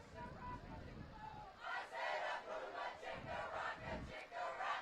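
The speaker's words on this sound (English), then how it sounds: "Got an interesting chant going on here by the Rebel fans in the stands." Rebel fans in the stands at a high school football game chant together in a loud, rhythmic crowd roar, with voices rising in repeated pulses.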